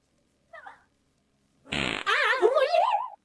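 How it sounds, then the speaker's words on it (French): A short fart sounds in a classroom, followed by a loud, longer wavering fart, with a faint earlier squeak. "Non, là, c'est moi qui ai pété."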